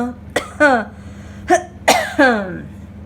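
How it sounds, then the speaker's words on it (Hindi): A person coughs several times in short, sharp, close bursts, some with a voiced, throaty tail, separated by brief pauses. "वैसे मेरे को भी खांसी आ रही है"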